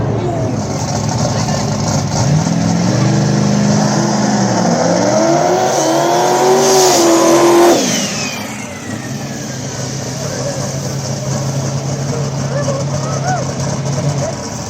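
A loud nitrous drag racing truck engine revs and roars up in pitch before cutting off abruptly at an outlaw small tire radial drag race, then a steady lower rumble continues, with voices talking underneath.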